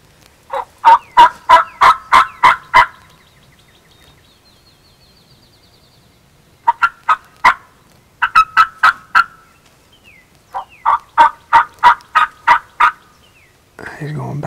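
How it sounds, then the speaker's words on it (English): A wild turkey gobbler gobbles outdoors in repeated rapid rattling bursts, several series spread across the stretch, loud and clear with no talk over them. "That gobbler, he's gobbling"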